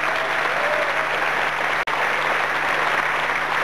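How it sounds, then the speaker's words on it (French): A 1991 French TV game-show studio audience (La Cinq, Que le meilleur gagne) gives steady, full applause with a constant electrical hum beneath and a momentary dropout midway. "Et on applaudit le pins de l'OM, s'il vous plaît"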